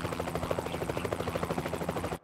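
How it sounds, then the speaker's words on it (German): Close, loud helicopter noise: a fast, even thudding of rotor blades over a continuous engine drone, cutting off suddenly at the end. "Du sitzt in einem Hubschrauber"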